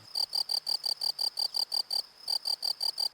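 Cricket chirps pulse in a steady, rapid rhythm, about fifteen bright trilled bursts in a row with one short gap, clear and alone against quiet.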